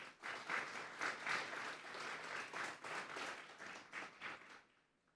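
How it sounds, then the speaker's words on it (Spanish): A church congregation applauds the Lord in a sustained burst of dense clapping that rises, holds steady, and tapers off at the end, with no voices over it. "Vamos a darle un fuerte aplauso pues al Señor."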